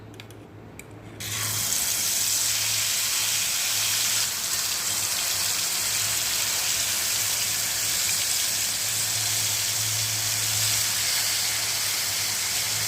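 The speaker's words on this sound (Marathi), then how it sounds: "आपण भजे तळून घेऊया।" Bhaji fritters, potato chips dipped in amaranth flour batter for a fasting meal, deep-frying in hot oil with a steady, loud broadband sizzle that starts after a brief quieter moment and continues unbroken.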